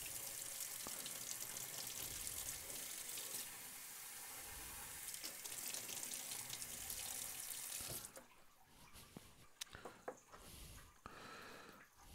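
Tap water runs steadily over a frozen pork shank in a kitchen sink, a loud continuous splashing stream for about eight seconds, then quieter intermittent trickling and clatter as the flow drops.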